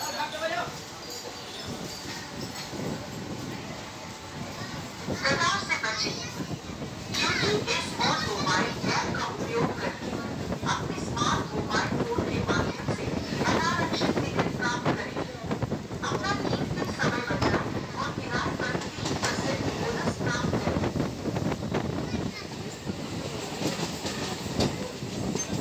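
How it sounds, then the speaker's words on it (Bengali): A Tarakeswar–Goghat local train pulls out of Arambagh station, wheels clattering in a rising clickety-clack rhythm with occasional squeals, while passengers chatter and children's voices carry through the carriage. "ট্রেন ছেড়ে দিল আরামবাগ স্টেশন থেকে।"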